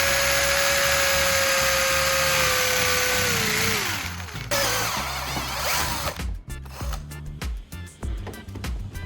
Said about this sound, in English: Drill a hole for the top of the wooden piece, going across its body